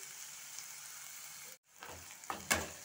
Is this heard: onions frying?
yes